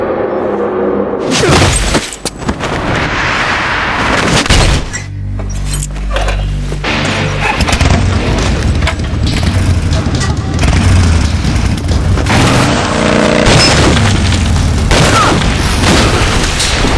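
Gunfire rings out in the Metal Gear Solid 3 video game. Several sharp, loud bangs burst out amid dense game effects and rumbling booms, with some voice audible in the mix.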